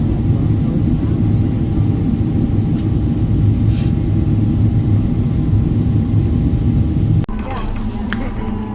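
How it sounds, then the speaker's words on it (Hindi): An airliner lands and taxis, heard from inside the cabin as a loud, steady low engine rumble that shifts abruptly near the end into a quieter, changed drone. "अब जो है जहाज़ वो अभी रुका नहीं है।"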